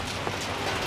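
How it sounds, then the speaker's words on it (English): Steady rain falls outside during a hailstorm, a dense, even hiss of drops on surfaces filling the whole moment, loud and continuous with no voices. "I'm just kind of sitting outside even though it's raining"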